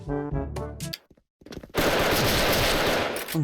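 A voice speaks briefly, a short pause follows, then a long, loud burst of rapid automatic gunfire from a Tiger Galil rifle in the video game Special Force roars on without letup.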